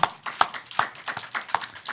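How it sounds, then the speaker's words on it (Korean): A church congregation claps in a loose, irregular rhythm, about a dozen sharp hand claps spread over two seconds, fairly faint and a little distant. "박수 쳐줘야 돼."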